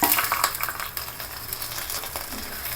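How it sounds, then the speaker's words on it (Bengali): Soaked pulao rice frying in oil in a pan, a continuous close sizzle with scraping stir strokes throughout. "তেলের মধ্যে দিয়ে প্রায় 10 মিনিটের মতো ভেজে নেব।"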